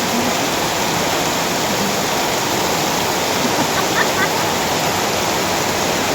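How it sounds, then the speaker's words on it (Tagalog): Very heavy rain pouring down at night, a dense, steady roaring wash of water that stays loud and unbroken throughout, with no voices. "napakalakas ng ulan ngayong gabi"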